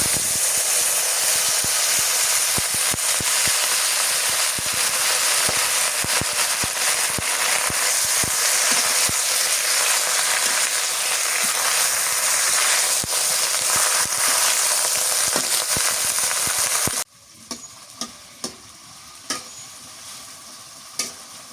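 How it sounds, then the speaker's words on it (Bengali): Leafy greens frying in hot oil in a village kitchen, a steady loud sizzle with stirring scrapes throughout, then dropping abruptly to quieter crackles and occasional pops near the end. "এই তেলে আমাদের শাক গুলো দিয়ে দেবো"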